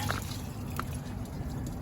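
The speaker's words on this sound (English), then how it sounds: "I can hear some water coming out." Water running and dripping out of an RV black water tank as the dump valve is opened, a faint, close trickle with a couple of brief drips over steady low background noise.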